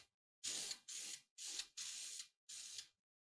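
Powder coat sprayed onto a Harley Buell chopper part in five separate hissing bursts, each roughly half a second long with brief pauses between them, close and steady.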